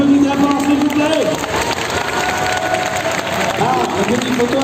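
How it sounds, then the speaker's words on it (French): A large crowd applauds and cheers for Smallville actors at a Paris manga convention, a dense, loud wash of clapping mixed with shouts and voices talking throughout. "allez on les applaudit très fort s'il vous plaît."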